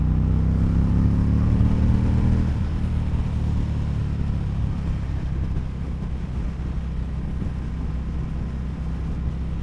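An Indian motorcycle on a 2022 test ride accelerates hard, its engine a deep rumbling roar rising in pitch through the first seconds, then settling into steady loud drive with wind buffeting.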